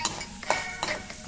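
Spices frying in a pan for puliyogare, a broadband sizzle with a few sharp scraping stirs at a steady pace, close and moderately loud, with no voices.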